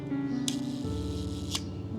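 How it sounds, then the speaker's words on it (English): Shutter of a 90-year-old 6x9 medium format camera firing at a slow speed, two crisp clicks about a second apart over a low steady hum, with no talk. "you can see the shutter is still working on the different speeds"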